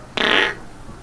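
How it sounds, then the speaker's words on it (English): A single short, loud, reedy fart sound effect plays when a player sits on a toilet from Mr Crayfish's furniture mod in Minecraft. "and then you actually fart"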